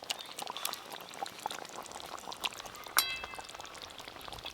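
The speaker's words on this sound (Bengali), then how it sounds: "কুচিয়ে রাখা আনারস, এই আনারসগুলো এই গ্রেভির মধ্যে একটু করে ডুবিয়ে দেবো এইভাবে।" Chopped pineapple goes into a simmering fish gravy of bhetki, giving soft plops and wet bubbling with light crackles and a small clink, fairly faint and without talk.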